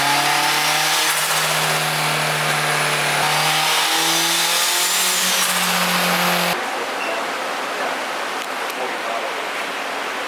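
A tuned Honda S2000 engine screams on a dyno, revs climbing loud and steady through a long pull before cutting off into a lower roar and fan noise.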